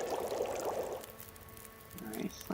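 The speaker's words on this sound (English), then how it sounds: "Alright, let's drink some more water." Water being poured and drunk in the survival video game The Long Dark, a brief liquid pour that fades after a second, with quieter game sounds following.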